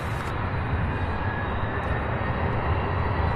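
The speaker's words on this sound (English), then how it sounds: "MD-11 took off on the other side." An MD-11 taking off on a far runway at Louisville International Airport, a steady, distant roar of jet engines filling the brief moment without any voices.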